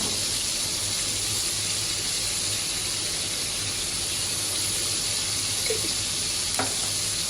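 Cumin paste sizzles in a hot pan already holding ginger, garlic and onion pastes for a bamboo shoot dish, a steady close hiss running throughout with a couple of faint clinks near the end.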